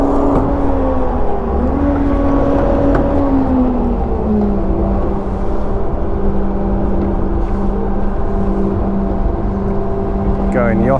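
On the radical 60ft foiler yacht Flying Nikka, the engine runs to power a winch raising the halyard: a loud, continuous motor drone whose whining pitch dips and shifts, with a voice talking over it.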